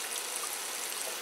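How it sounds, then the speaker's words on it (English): Cold water tap running into a kitchen sink, a soft steady rushing stream at low level, continuous and without talk. "I've got to turn my cold water on"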